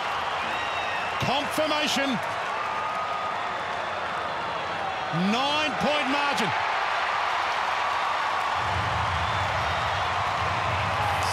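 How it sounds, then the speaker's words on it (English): A large Australian football crowd at Marvel Stadium roars steadily for a St Kilda goal against North Melbourne, a broad continuous wash of noise under a commentator's voice. "And the crowd about to go crazy here at Marvel."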